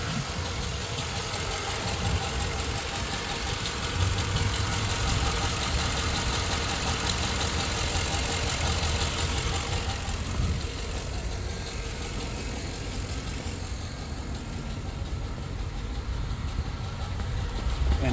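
A 2005 Chevrolet Suburban idles with its hood open, a steady, even mechanical drone with a faint ticking running throughout at close range, with no voices.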